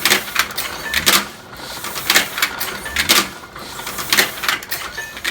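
A Heidelberg printing press runs in a museum with a steady mechanical rhythm of sharp clacks and swishes repeating about every second, close and fairly loud, with no talk over it.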